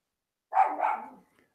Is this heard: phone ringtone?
no